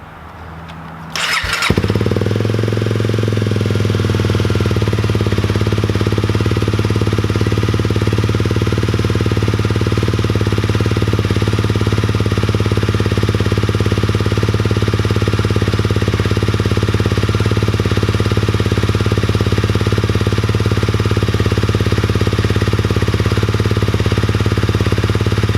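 A 2017 Honda CRF250L motorcycle fires up from a cold start and settles into a loud, steady single-cylinder idle that runs unbroken and close by, with no one speaking.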